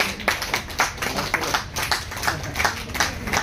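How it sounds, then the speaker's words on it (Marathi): An audience claps steadily for a theatre team at an environment-awareness event, a dense, continuous round of applause with even rhythm, loud and close, no talking. "तर या संपूर्ण टीमसाठी एकदा जोरदार टाळ्या होत्या"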